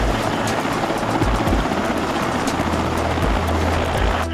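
Indian political leader's luxury helicopter, valued at about 150 crore rupees, with steady loud rotor drone and low rhythmic thumping that holds at one level throughout, with no voices.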